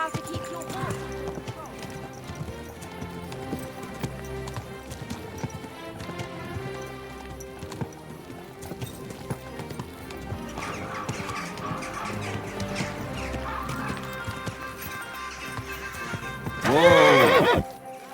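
In Kingdom Come Deliverance 2, a horse's hooves clip-clop beneath game music and spoken dialogue, ending in a loud, close neigh near the finish.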